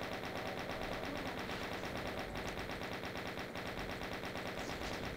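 Turret gunfire in a Doom map rattles in a rapid, unbroken machine-gun stream, dense and constant from start to finish with no talk.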